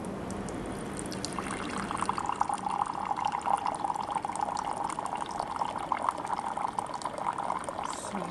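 Hot water runs steadily from a touchscreen filtered water dispenser into a cup, a continuous close pour with no voices.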